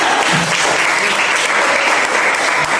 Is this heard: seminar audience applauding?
yes